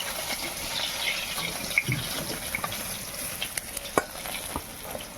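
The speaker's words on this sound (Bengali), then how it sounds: "এভাবে সব মাছগুলো ভেজে নেবো।" Live pond fish fry in hot oil in a pan, making a continuous close sizzle with scattered pops and faint stirring scrapes.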